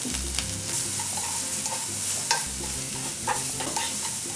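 Carrots stir-fried with a little salt in a pan for japchae give a close, steady sizzle with scraping, stirring clatter throughout.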